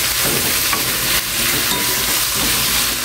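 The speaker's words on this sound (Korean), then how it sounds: "이렇게 볶아줍니다." Garlic stir-fried in a pan over medium heat, a loud, dense, continuous sizzle close up with faint stirring underneath.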